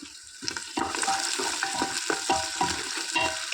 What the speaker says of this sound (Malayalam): ഇതിലേക്ക് ഇഞ്ചി വെളുത്തുള്ളി ചെറിയുള്ളി എല്ലാം ചതച്ചത് ഇട്ട് കൊടുക്കുന്നുണ്ട്